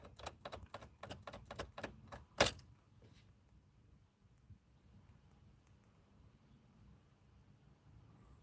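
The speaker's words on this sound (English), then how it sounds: "your key is in the ignition and it just won't turn forward" A car key jiggled back and forth in an ignition that won't turn, a quick series of about a dozen sharp metallic clicks and rattles ending in one louder clack, then near silence.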